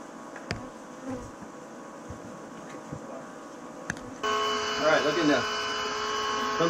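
Bees swarming out from beneath a house floor in Round Rock, Texas, make a steady insect drone with a low hum, thickening into a louder, denser buzz partway through.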